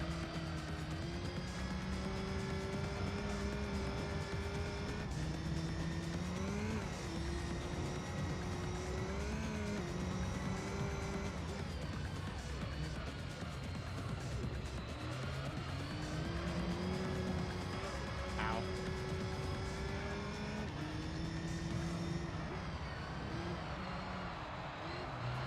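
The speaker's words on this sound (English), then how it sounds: "I'm spinning the tires in third now" Race car tyres spin in third gear in Gran Turismo 3, a steady high engine whine holding and shifting pitch continuously with occasional revving surges, loud and unbroken, no talk.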